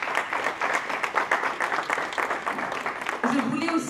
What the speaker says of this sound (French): les panélistes ici présents, qui méritent vraiment des applaudissements nourris de votre part